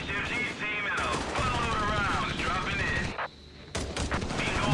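Machine gun fire in the Company of Heroes 3 strategy game, with American forces battling, rattling in dense bursts under continuous talk and game sounds, briefly dropping out before resuming.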